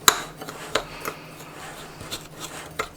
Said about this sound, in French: je vais prendre une cuillère et je vais mélanger